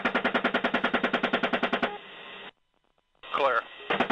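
Rapid automatic gunfire engages a vehicle in a steady burst of evenly spaced shots heard over a radio link, then breaks off, followed by a garbled radio voice and another short burst.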